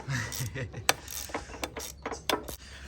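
Wrench work on a Harley-Davidson Dyna foot peg bolt during a motorcycle teardown, giving a few quiet, irregular metallic clicks and ratchet ticks close by, with a faint voice murmuring in the background.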